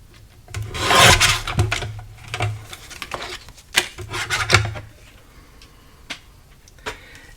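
Scissors snipping through paper card for a handmade craft card, a close series of crisp cuts and rustles, strongest early on and then thinning into scattered short snips.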